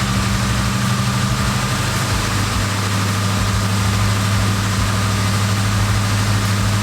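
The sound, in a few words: ported Eaton supercharged Cobra engine idling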